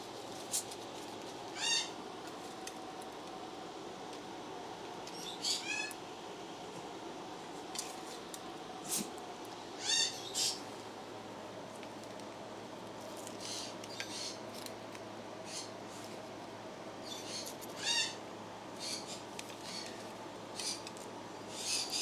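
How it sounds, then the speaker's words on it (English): A pet bird in a house calls out repeatedly in short, sharp, shrill bursts spaced a few seconds apart over a low steady background hum, moderately close. "so that the bird can holler every time she hears me speak"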